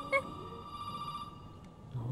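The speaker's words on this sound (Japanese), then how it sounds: "じゃあちょっと電話が今鳴ってるんで出てみましょうか。" A telephone rings in the survival horror game Resident Evil 7, a steady electronic bell tone holding for over a second at moderate level, with a brief thump at the start and soft movement noise.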